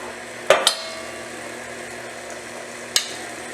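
A KitchenAid stand mixer hums steadily as its spiralizer attachment peels a vegetable, with a few sharp metallic clanks, two close together near the start and one later.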